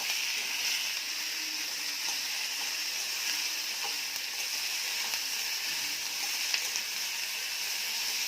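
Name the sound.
frying snake gourd on medium gas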